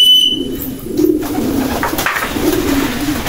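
Pigeons coo in a loft with a low, repeated, throaty burble, loud and close, while a faint higher chirp sounds briefly at the start.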